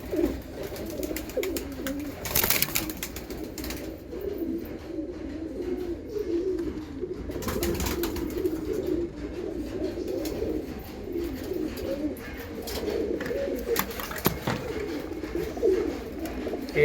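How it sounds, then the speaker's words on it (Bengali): Andhra pigeons coo softly and repeatedly in a loft. Short bursts of flapping or rustling break in now and then over a low, steady background. "এটা আন্ধ্রা পায়রা সেট।"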